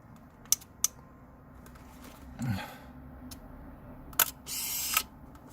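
Canon Sure Shot AF-7 compact autofocus camera: two sharp clicks as the shutter button is pressed, a soft mechanical whir, then more clicks and a brief motor buzz, all close and isolated with no talking.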